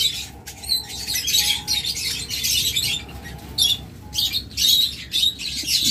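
A breeding pair of violet opaline pet birds with masking give repeated bright, high chirps and tweets in short bursts, close by, with a few faint flutters.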